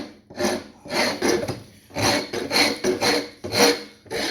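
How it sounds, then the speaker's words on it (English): A bigger rasp files wood in repeated rough strokes, each pass a loud dry scrape with short pauses between, close by and alone. "I've swapped to this bigger rasp."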